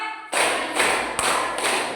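Classroom students clap in unison, several sharp group claps following a count during a warm-up before a lesson, close and fairly loud with no talking.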